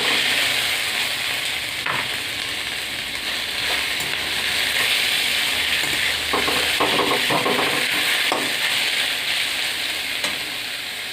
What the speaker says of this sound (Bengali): ফোড়ন দিয়ে একটু নেড়ে ছেড়ে আমি এই লাউটা এর মধ্যে দিয়ে ভালো করে ভেজে নেব।